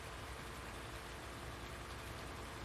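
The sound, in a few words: rain in the video game Farming Simulator 19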